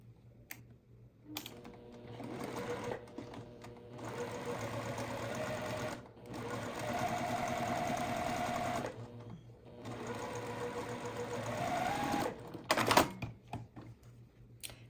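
A sewing machine stitches quilt pieces in several steady, fast-running bursts separated by short pauses, heard close and fairly quiet with no talk.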